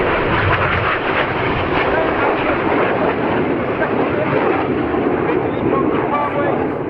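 A loud, continuous jet roar fills the air as an aerobatic display jet performs at the RAF Cosford airshow. The broad rumble holds steady throughout, while a commentator's voice runs underneath.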